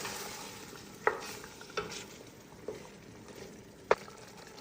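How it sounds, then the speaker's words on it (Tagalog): Blended tomato and spice being stirred in a pan, a soft low sizzle with a few sharp utensil knocks against the pan. "i-add ko na itong binilend kong tomato. Add ko na rin itong spicy. Mix ko lang siya ng konti."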